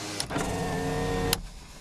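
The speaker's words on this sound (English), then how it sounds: "It's got power windows" Electric window motor in a 2000 all-wheel-drive Jeep whirs steadily for about a second, starting and stopping with faint clicks, close and alone inside the cabin.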